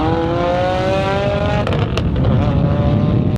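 A loud, raspy exhaust from a big-turbo Subaru WRX, straight-piped from the header back, drones close by, engine note rising steadily before crackling and popping as the revs drop.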